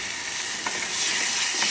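Tomato puree sizzling as it sautés with tomatoes in a pan for minestrone soup, a steady bright hiss with a couple of soft stirring scrapes, close and alone.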